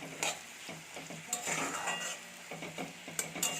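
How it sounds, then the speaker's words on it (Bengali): Chopped onions frying in fish oil until reddish-brown, sizzling steadily up close while a utensil scrapes and stirs against the pan several times, with no one speaking. "পেঁয়াজটা ভালোভাবে আমি লাল লাল করে ভেজে নেবো বেরেস্তার মতো করে"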